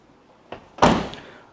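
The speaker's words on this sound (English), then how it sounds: "Door shuts nice. One solid thump." A 1997 Chevrolet Tahoe door swings shut with one solid, close thump, with a lighter click just before it and a short ringing decay after.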